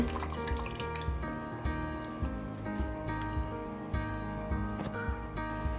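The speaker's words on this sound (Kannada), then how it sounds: "ಇವತ್ತು ಬೆಳಿಗ್ಗೆ ಎರಡು ಸಲ ತೊಳೆದು ಹೀಗೆ ಹಿಂಡಿ ಹಾಕಿ ಅದನ್ನು ಕುಕ್ಕರಲ್ಲಿ ಬೇಯಿಸಲಿಕ್ಕೆ ಇಡಲಿಕ್ಕೆ" Water dripping and trickling from freshly washed sprouted moong beans as they are squeezed by hand in a home kitchen, a soft, steady patter of drops up close.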